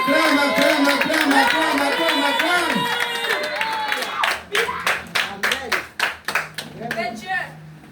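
Congregation at a church teaching service in Alfortville clapping in a steady rhythmic burst, sharp hand claps ringing out after a stretch of loud voices and crowd noise.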